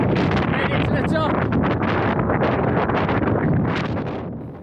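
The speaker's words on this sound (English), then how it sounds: "Got pretty damn windy up that way." Loud gusts of wind buffeting the microphone on the kunanyi mountain summit, roaring and rumbling close up, easing off toward the end.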